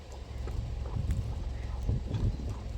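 Donkey hooves clip-clop on the ground on Crete, a loose run of near, uneven steps over a steady low rumble of wind and outdoor noise.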